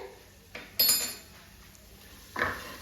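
A spoon clinks against a pan while Kashmiri red chilli is stirred into tomatoes, giving a few separate metallic taps and scrapes over quiet kitchen background.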